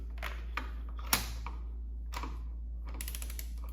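Mechanical ratcheting and clicking from a torque wrench set to 11 Nm snugging spark plugs on a 2005 Suzuki GSX-R1000, a few sharp close clicks and short ratchet bursts with quiet gaps between them.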